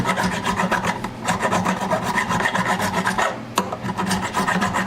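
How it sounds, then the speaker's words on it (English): Steady, coarse rasping of a rasp filing the fretboard of a Martin D-25K acoustic guitar, continuous back-and-forth strokes close up, with a brief pause near the end before resuming. "Not as much filing up here, so you can go through it a lot faster."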